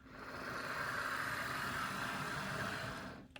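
A late-1950s Lindsay 8-wheel-drive Globe F7 model train chassis with all-metal gearing and a 7-pole skewed motor runs smoothly, giving a steady, even hum and whir that holds for several seconds, then stops with a faint click.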